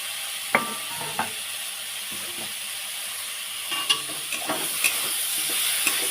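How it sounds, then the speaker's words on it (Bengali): Pointed gourd and tomatoes fry in a pan under a steady close sizzle, punctuated by several sharp clacks and scrapes as the mixture is stirred. "আর একটু ভেজে নেবে একটা টমেটোগুলো দিয়ে দেবে"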